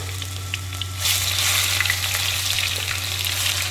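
Ginger garlic paste hits hot oil with whole spices such as cinnamon, cloves and cardamom, bursting into a loud, dense sizzle after a quieter low hum, then frying steadily and close up.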